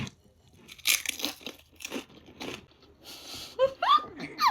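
Crisp crunching bites of a potato chip topped with sauerkraut, salmon and chili onion crunch seasoning, several close chewing crunches in quick succession, with a brief voiced sound at the end.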